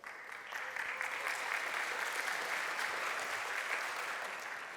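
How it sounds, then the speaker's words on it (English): Audience applause at a tech conference talk, a dense, steady wash of many hands clapping together, swelling quickly and holding evenly for several seconds at moderate distance. "just give it a round of applause."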